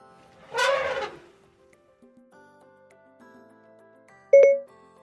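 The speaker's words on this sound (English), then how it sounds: "An elephant sounds like this." A single elephant trumpet call, a loud brassy blast lasting under a second, played back through a phone voice assistant in otherwise quiet surroundings, followed a few seconds later by a short electronic chime.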